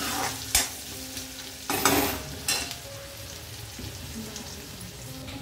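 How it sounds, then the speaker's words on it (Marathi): Spices crackle and sizzle in hot oil, tempering for a spicy crab curry, with three sharp loud bursts of hissing, then a softer steady frying underneath. "आता रस्स्याला फोडणी."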